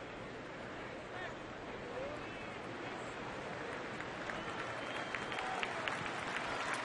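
Baseball stadium crowd at a Houston–Milwaukee game cheering to urge on the hitter, a broad, distant roar that swells slightly over several seconds beneath a play-by-play announcer's voice.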